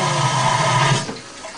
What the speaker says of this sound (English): toilet, press this button